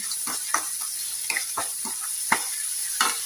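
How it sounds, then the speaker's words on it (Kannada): Sliced onion frying with salt in a pan for a vegetable dosa filling, a steady bright sizzle with scattered crackles and soft scraping stirs, close and alone without any voices. "ಒಂದು ಸ್ವಲ್ಪ ಬಾಡಬೇಕು ಈರುಳ್ಳಿ."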